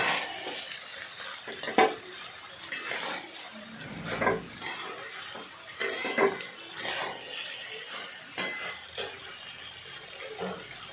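A spatula scrapes and clanks against a pan as fried morola fish are tossed with chopped onions, with repeated irregular metallic knocks and soft sizzling between them, close and steady, with no talking.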